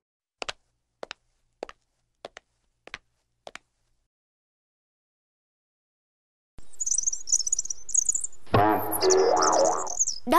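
A cartoon character performs a warbling bird song imitating a nightingale, loud and continuous after a series of sharp clicks and a pause, in an animated Vietnamese folk tale.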